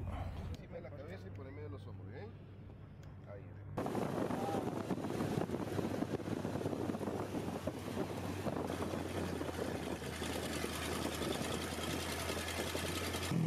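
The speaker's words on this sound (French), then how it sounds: "là on va voir le Dakar et on est en buggy" A dune buggy drives in the Dakar rally, its engine a steady drone under heavy wind buffeting that grows louder partway through, with voices talking over it.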